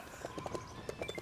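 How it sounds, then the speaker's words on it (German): Horse hooves clip-clopping in Lego City Undercover, a quick run of light hollow clops close by over a soft game background. "Hey, schau mal! Pferde! Können wir die benutzen?"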